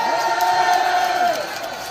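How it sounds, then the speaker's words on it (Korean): A large crowd of university students at an outdoor political rally cheers and shouts, with a sustained wash of voices and a rising cheer near the start, loud and close throughout. "박수 한번 주십시오."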